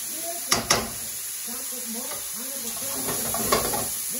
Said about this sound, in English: Let it sizzle so that you get the brown bits on all sides.